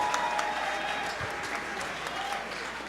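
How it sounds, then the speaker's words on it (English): An audience applauds a performer named Jean Velose as she comes out on a variety show, a steady wash of clapping and crowd noise held at even loudness for about three seconds, with voices faintly mixed in. "A round of applause, folks"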